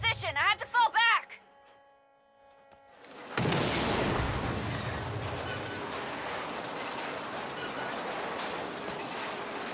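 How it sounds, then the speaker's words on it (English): Explosions in the video game Saints Row, a sudden heavy blast followed by a long loud rumbling roar of fire and debris, after a few seconds of quieter game sounds and tones. "I'm seeing explosions all over."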